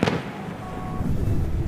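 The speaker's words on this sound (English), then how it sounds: "the fireworks are going off" Fireworks go off at Liberty Fest, an Independence Day festival, with a sharp burst at the start followed by low rumbling booms and crowd noise.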